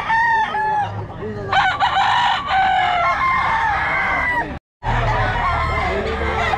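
A Boston Roundhead rooster at a poultry farm in San Jose, Bulacan crows repeatedly and loudly up close, its long harsh calls running over steady background clucking and other fowl noise.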